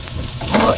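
Garlic and onion sizzling in a hot pan for a brief moment, a steady close bright hiss with no talking.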